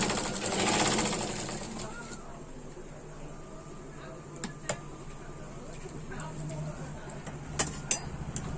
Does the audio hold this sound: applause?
no